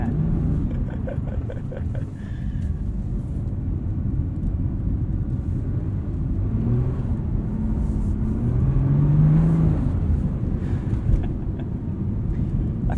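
A 2021 Nissan GT-R Premium driving on a winter road in snow gives a steady, loud low rumble from inside the cabin, with engine drone swelling slightly midway and a faint voice at times.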